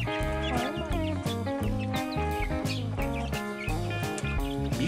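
Chicks and hens in a crowded chicken coop, dense overlapping clucks and squawks with a steady pulsing rhythm, loud and close, with no talking.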